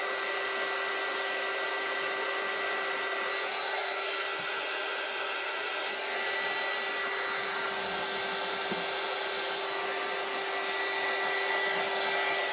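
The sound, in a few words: hair dryer drying hair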